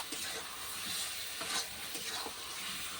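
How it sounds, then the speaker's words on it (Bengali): Vegetables with turmeric and salt being stirred in a pot for a Bengali sour dish, a steady soft sizzle with a few scraping spoon strokes rising over it. "সামান্য লবণ দিয়ে আমি ভালো করে নাড়িয়ে নিব"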